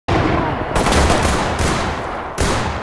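Shotgun blasts in the tactical shooter game Ready or Not, two or three loud, close booming shots with long rolling echoes in an outdoor firefight.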